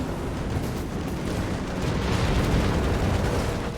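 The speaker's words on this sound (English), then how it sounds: "Here comes the strafe." Strafing run in a World War II strategy video game with Shermans and a Panzer IV, a dense, continuous roar of rapid gunfire and bursts, loud and sustained throughout.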